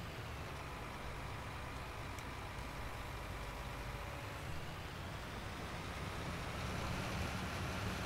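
Steady, low tractor engine drone from Farming Simulator 19 while driving across a field, a constant hum with no talk.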